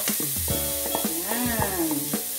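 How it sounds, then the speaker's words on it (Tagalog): Onions frying in oil in a pan for an eggplant omelette, a continuous sizzle broken by several sharp spatula scrapes and knocks, with a tonal whine drifting underneath, close and steady. "At lutuin natin ang ating sibuyas."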